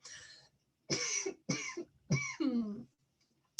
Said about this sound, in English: If you're feeling the need to cough and clear,